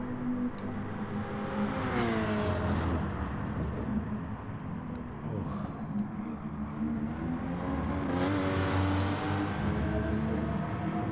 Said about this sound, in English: Two Vipers battling for 7th position.